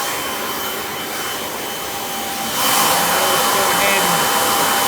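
A Kirby Sentria G10D upright vacuum cleaner runs close and loud with a steady rushing whine, its airflow rising to a brighter, harsher roar partway through.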